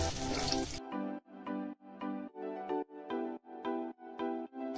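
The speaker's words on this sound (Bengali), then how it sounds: "দেড় কাপ মতন জল দিয়ে দেবো।" Water splashes into a hot pan of tempering mustard seeds, green chillies and curry leaves for dhokla, a short loud hiss that cuts off within a second. A run of regular tonal pulses follows.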